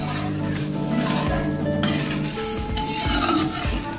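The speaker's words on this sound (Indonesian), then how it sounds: "Lalu ini kita aduk-aduk." A spatula stirs a tofu omelette mixture with sugar in a pan, scraping and clattering steadily against the metal over a low background sizzle, with no talking.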